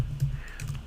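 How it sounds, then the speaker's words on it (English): Quick keystrokes on a computer keyboard while coding, a short burst of soft close clicks over a low hum. "am I typing that properly?"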